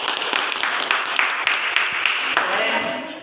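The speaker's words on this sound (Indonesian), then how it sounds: "tepuk tangan untuk Mbak Hikmah" A group claps for a presenter, a sustained patter of hands with a few sharper claps, fading slightly toward the end.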